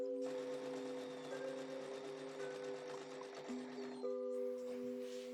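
A sewing machine stitches the seam of a tote bag, a steady close mechanical whirr with a fast needle rhythm running continuously, briefly changing pitch as it reverses to lock the stitch.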